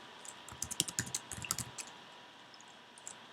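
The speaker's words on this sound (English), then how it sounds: "it's because I can't see what I'm typing as I type" Fingers typing on a computer keyboard while coding, quick close bursts of crisp keystroke clicks for about a second and a half, then a few scattered taps with short pauses between.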